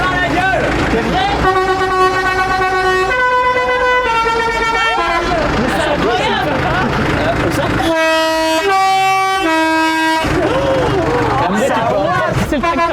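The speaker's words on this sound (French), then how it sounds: "Faut faire sonner les trompes." Loud, sustained tractor horn blasts sound repeatedly in stepped tones at a farm, alternating with bursts of shouting voices and background noise.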